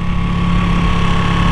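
A Ducati Panigale V2 motorcycle engine while riding, a loud steady rumbling drone with a pulsing low-end beat and constant wind noise, close and unbroken.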